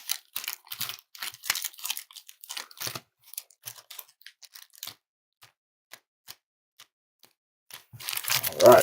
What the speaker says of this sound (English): So we're just going to do a little shuffling.